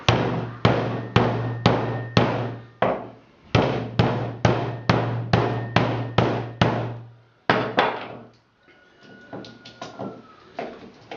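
An axe hammers at a can to loosen its framework: a steady run of loud, close, hollow strikes, a brief pause, then a few more blows that trail off into lighter knocks.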